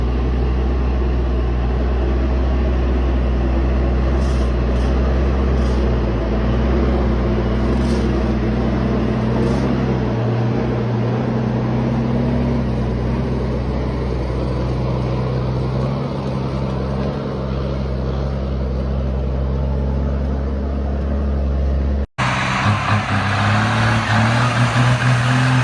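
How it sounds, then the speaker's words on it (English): A fully loaded logging semi-truck hauling giant logs climbs a steep forest road and rounds a sharp curve, its engine a loud, steady roar throughout with a brief dropout and shift in tone near the end. "The fully loaded logging semi-truck smoothly climbs a steep hill and navigates a sharp curve with ease"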